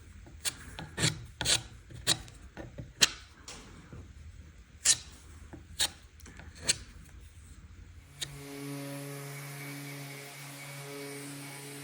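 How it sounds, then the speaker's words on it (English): Sanding a wooden table with 120-grit sandpaper, a series of separate rasping rubs with sharp scraping strokes, fairly quiet, followed by a steadier mechanical hum at the end. "I've sanded this up to 120"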